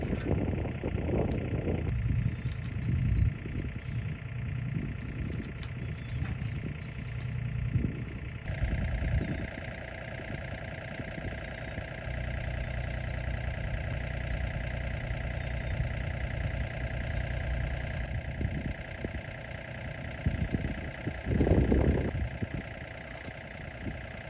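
A farm tractor engine runs steadily at a cattle operation, a continuous mid-pitched idling rumble that shifts in load partway through, fairly close with no talk.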